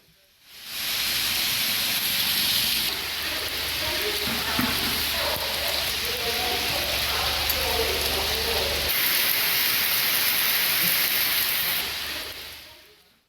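Heavy rain pouring down across the Chennai area of Tamil Nadu: a dense, steady hiss that holds at an even level for the whole stretch, with no voices.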